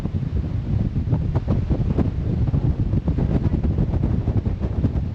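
Strong wind buffets the microphone continuously and loudly on top of a tall monument, a rough roaring rumble with gusting pulses and no talking.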